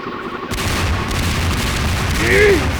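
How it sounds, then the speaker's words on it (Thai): Booming Garry's Mod explosions roar loudly and continuously, a dense rumbling blast that swells near the end with a ringing whine. "ระเบิดแล้ว"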